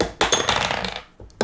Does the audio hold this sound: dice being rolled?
yes